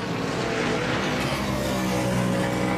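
NASCAR Nationwide race cars scream through the bus stop at Watkins Glen, a loud, unbroken, high-revving engine roar with occasional tire squeal and no voices.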